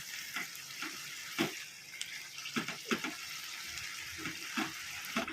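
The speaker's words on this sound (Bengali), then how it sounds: "এবার এই দুটোকে নাড়াচাড়া করে ভালো করে মিশিয়ে নেব" Bottle gourd and fried prawns being stirred together in a pan: a soft, steady simmering sizzle with repeated spatula scrapes and knocks at irregular intervals, close and moderately quiet.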